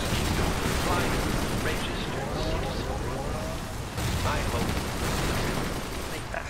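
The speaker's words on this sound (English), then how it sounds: "the sentry robot's shooting is all scripted" Sentry robot firing in the shooter game TimeShift, dense sustained gunfire bursts filling the whole stretch at close, loud level with brief lulls, no speech.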